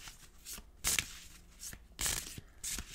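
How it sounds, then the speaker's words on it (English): Tarot cards shuffled close up in a quiet room, with soft rustling and two louder riffling bursts about a second apart and no talking. "think of a question as I'm shuffling"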